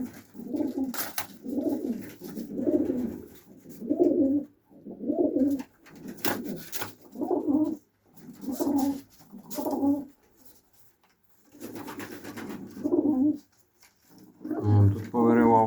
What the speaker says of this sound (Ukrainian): Ну, ось такі голуби.